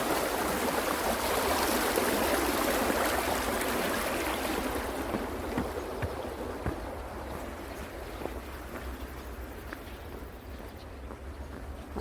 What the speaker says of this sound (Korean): 물소리가 아침에 상당히 경쾌합니다.